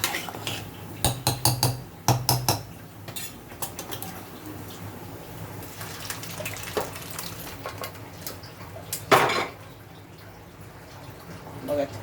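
Cooked dal is tipped into a pot of prepared masala for dal makhani, with sharp metallic clinks of a spoon on the pot, scattered clatters and a soft wet sizzle throughout.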